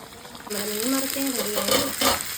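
Fish fries in a pan with a steady, close sizzle that starts abruptly and keeps going, briefly overlaid by a short voice-like tone.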